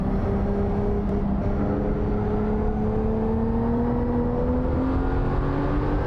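Singer 911 engine in Assetto Corsa pulling hard under full throttle, a loud steady drone whose pitch climbs smoothly through the revs with a brief shift partway, heard alone without talk.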